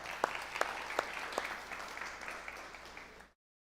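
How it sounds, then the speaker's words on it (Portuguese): A small gathering bursts into applause, a steady wash of hand claps with a few sharp, louder claps standing out early on, fairly close, with no talking, ending abruptly. "Salva de palmas."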